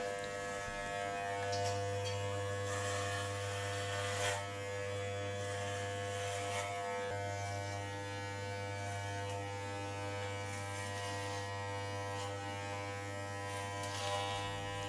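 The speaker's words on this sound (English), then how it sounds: "With the 1 inch guard, the clipper cuts pretty well" An electric hair clipper with a 1 inch guard cuts hair, giving a steady close buzz with a low hum. Faint changes in pitch occur as it moves through the hair, with no talking.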